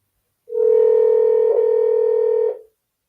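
A single telephone ringback tone on an outgoing call, one steady loud electronic tone lasting about two seconds and then stopping, with silence before and after.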